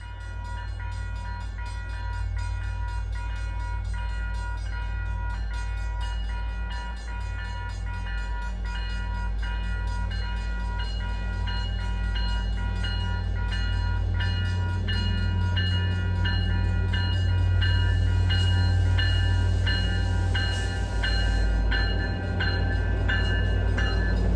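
An MBTA Middleboro Extra freight train rolls past Holbrook-Randolph Station, a loud steady rumble of wheels and railcars lasting throughout, with a brief horn or bell-like tone near the end and no talking.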